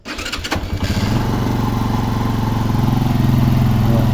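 A Benelli R18i motorcycle, recently fitted with new bearings and polished valve stems, cranks briefly and fires up, then settles into a steady, smooth idle close by with no talk.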